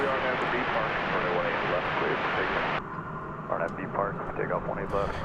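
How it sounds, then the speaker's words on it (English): American Airlines Airbus A319 at Dallas Fort Worth airport at night, a loud broadband jet roar for the first few seconds that drops away sharply, followed by voices talking over a quieter engine rumble. "Here's an Airbus A319. It is going to Bakersfield, California. It's American Flight 1024."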